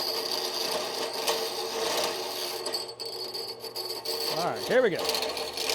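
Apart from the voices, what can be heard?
saw blade cutting during aircraft cowl build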